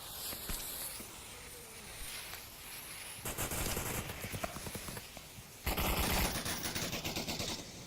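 Suppressive gunfire in the VR shooter Onward rattles in rapid automatic bursts, faint at first and then louder, dense clusters of shots with no talk over them.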